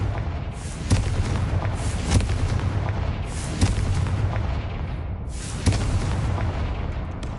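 Confringo blasting spell explosions in the Hogwarts Legacy video game: five loud, booming blasts at roughly even intervals, each with a sharp crack and rumbling tail, close and alone without talk.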